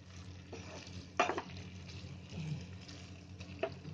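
Ivy gourd with moong and matki bhaji stir-fries in a pan on high flame: a soft, low hiss of frying under several sharp scrapes and clacks of a spatula, fairly quiet and close.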